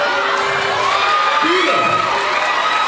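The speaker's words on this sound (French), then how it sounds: "Alors on applaudit très très fort" An audience at a festival event applauds and cheers together, with children shouting and whooping in a dense, continuous crowd roar lasting a few seconds.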